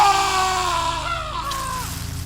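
A police officer's drawn-out, wavering scream, used as a horror-story sound effect, holds steadily loud for the whole stretch with no talking over it.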